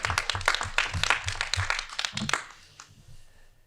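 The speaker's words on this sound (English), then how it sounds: "I think a round of applause is definitely in order." A dense burst of applause rises at a Chicago Police Board meeting, with many hands clapping close by for about two seconds before it quickly dies away into quiet room tone.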